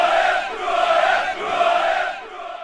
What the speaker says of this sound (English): as the crowd are chanting